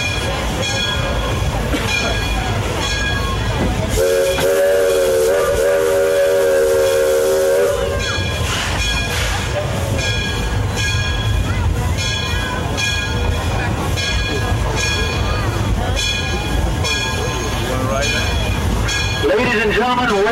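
A narrow gauge steam train at Roaring Camp & Big Trees in California rumbles and hisses steadily, with a loud, sustained steam whistle blowing midway and ringing tonal bell-like hits throughout, all close and continuous.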